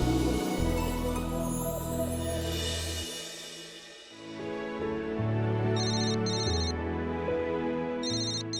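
A mobile phone ringtone chirps in short repeated electronic bursts, rising over a warm musical backdrop at a home birthday celebration.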